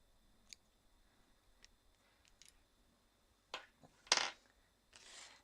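Scissors trim excess fabric for a tiny 1/6-scale dollhouse table runner: a few faint, scattered clicks, then two sharper close snips and a short soft rustle, with no talking.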